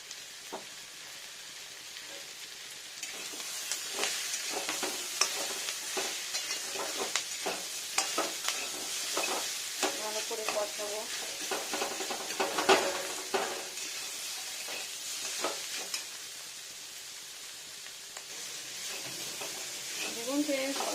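Green jackfruit being sautéed and stirred in a pan, with a soft continuous sizzle broken by repeated scraping and clinking stir strokes, fairly quiet and close, with a voice talking over it at times.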